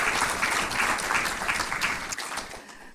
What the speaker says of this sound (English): maybe just a round of applause for them again at this point